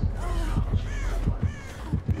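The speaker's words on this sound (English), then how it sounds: "I see your crows." Crows in the video game Dead by Daylight caw in a string of harsh calls, repeating roughly every half second, fairly loud over a low rumbling game background.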